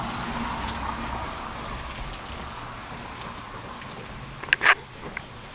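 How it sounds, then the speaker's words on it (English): Heavy rain falling in Pittsburgh, a dense, steady hiss of drops that holds evenly throughout, with a brief sharper splash or clatter near the end. "Man, it's really raining today here in Pittsburgh."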